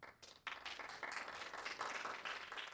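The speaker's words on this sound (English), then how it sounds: "Please, a big round of applause for Sacha." An audience at an AI tech show-and-tell event in San Francisco breaks into dense, continuous applause that starts abruptly and keeps up steadily, heard faintly from a distance.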